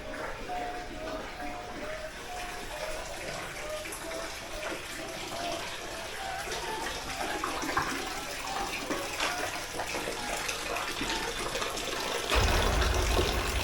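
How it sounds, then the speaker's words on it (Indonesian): Water runs continuously into a toilet in a hospital morgue, a steady broadband rush that holds for the whole stretch and swells louder near the end. "Ya ini toilet. Airnya nyala terus ya."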